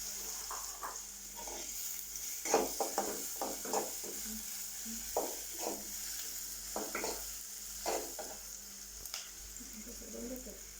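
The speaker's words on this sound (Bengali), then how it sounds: "এখন পেঁয়াজ কুচি দিয়ে দেব। এখন নেড়ে নিচ্ছি।" Chopped onion stirred in hot oil for a stinging catfish curry: irregular scraping strokes of a spatula over a steady low sizzle, moderately close, with no talking.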